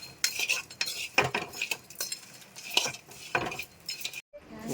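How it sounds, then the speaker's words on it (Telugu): Dried fish frying and being stirred in a pan, with repeated close metal scrapes and clinks of a spoon over a light sizzle, the strokes coming in an uneven rhythm with a brief pause near the end. "దోరగా వేయించుకోవాలి వేయించుకొని శుభ్రం కడిగైతే స్మెల్ అన్నది పోతుంది"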